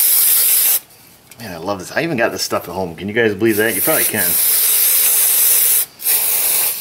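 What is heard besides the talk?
brake parts cleaner spray can spraying chainsaw carburetor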